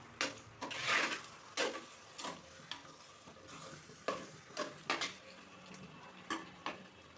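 Lemon pickle in sesame oil with asafoetida is stirred in a pan, with soft, rhythmic scraping strokes spaced about half a second apart over a faint sizzle, quiet and close.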